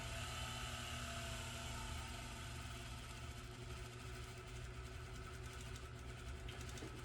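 A cheap inflator/deflator motor runs at half power, a steady mid-pitched electric drone with a constant rattling buzz that holds at an even level, close by and alone without talk.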